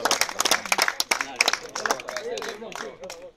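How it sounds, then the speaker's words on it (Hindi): Applause breaks out at a pigeon competition prize announcement in Pakistan, a dense burst of claps rising and falling over a few seconds with voices mixed in. "तालियां"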